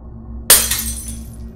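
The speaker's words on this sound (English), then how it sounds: "They had smashed my passenger window." A car's passenger side window smashes in one sudden, loud burst of breaking glass, and the shards tinkle and scatter for about a second afterward. Nothing else is heard over a low steady background hum.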